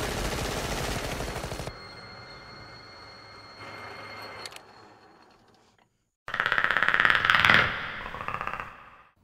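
Machine gun fire from the film Predator: a dense rapid rattle of shots opens, fades to a lower rumble, then a second loud burst of firing with metallic clatter erupts after a brief silence.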